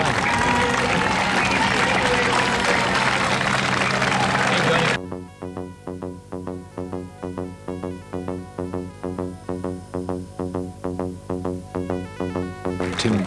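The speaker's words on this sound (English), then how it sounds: "enters the park to the roar of the crowd" A crowd roars and applauds as the winning runner enters the park at the 1985 Sheffield half marathon, loud continuous cheering for about five seconds before it cuts to steady music.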